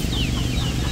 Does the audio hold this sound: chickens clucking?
yes